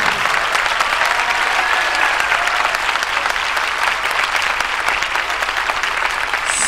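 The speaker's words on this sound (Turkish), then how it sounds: "oyuncuları kocaman alkışlarla davet ediyoruz" Sustained, dense audience applause at a film premiere gala in a shopping mall in İzmir, steady and loud throughout as the cast is welcomed, with no one speaking over it.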